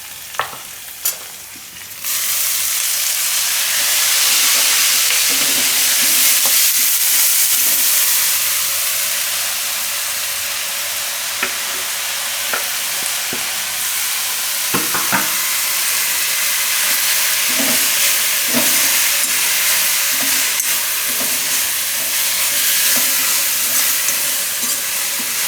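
Fresh spinach with asafoetida hits hot oil in a pan and bursts into a loud, steady sizzle that carries on close-up with occasional stirring clinks, without talk.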